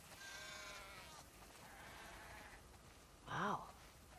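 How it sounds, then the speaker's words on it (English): Sheep bleating in The Last of Us Part II on PS5: a flock calling faintly at a distance, then one clearer, louder bleat closer by near the end, over steady background ambience. "That's a lot of sheep."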